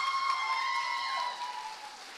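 An audience at a dance show claps in a steady, fairly soft patter, with a held electronic tone ringing over it and gliding downward as the applause slowly thins.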